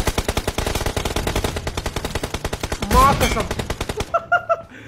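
Rapid, evenly spaced gunshots in the mobile battle royale game PUBG Mobile, loud and continuous for about four seconds, a heavier blast near the end, then quieter game tones while someone speaks.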